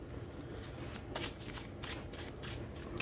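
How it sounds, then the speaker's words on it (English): A deck of cards being shuffled at close range during a tabletop card game, with several quick riffling bursts of papery flutter over a faint, quiet background. "keep shuffling here. Shuffle that up."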